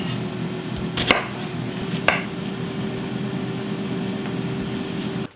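A kitchen knife slices Brussels sprouts in half on a cutting board, giving two sharp, distinct chops about a second apart over a steady low hum of nearby cooking equipment.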